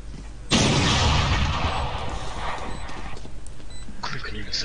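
An Operator sniper rifle shot in the game Valorant cracks out loud and sudden, then leaves a long, dense roar of noise. A voice is heard in the background.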